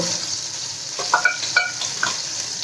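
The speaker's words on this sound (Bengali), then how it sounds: "চিনিটা ক্যারামালাইজ হয়ে গেছে সুন্দর কালার এসছে" Sugar caramelizing in a pan for a Bengali sabudana payesh, with a steady high sizzling hiss and a few sharp spoon scrapes and clinks as it is stirred, close and alone without talk.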